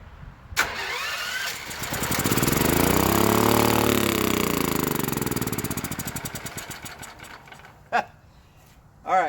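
An old generator engine sputters, catches and starts, its note swelling into a loud steady run that gradually slows and fades, with a couple of sharp clanks and a brief restart near the end.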